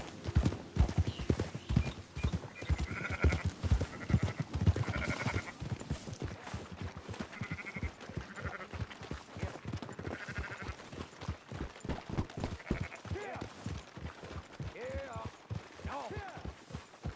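Sheep bleat in Red Dead Redemption 2 among steady clip-clopping hooves of a walking horse, with short tonal calls scattered through the herd and someone speaking at times over the scene.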